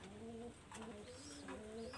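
A pair of imported KTM pigeons coos close by in repeated, throaty rolling calls, with a short gap between phrases and no voices.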